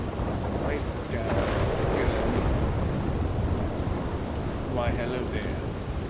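Thunderstorm in Red Dead Redemption 2 on PS4, with steady heavy rain and rolling thunder filling the whole stretch at close range, while someone speaks briefly over it.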